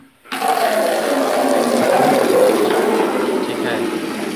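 Running water pours and splashes steadily while clothes are washed by hand, a close, continuous gush with no talk.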